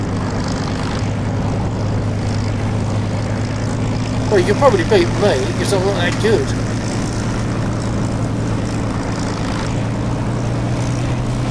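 Propeller aircraft engine droning steadily in the DCS flight simulator game, a constant humming thrum with a tonal buzz, while someone talks over it.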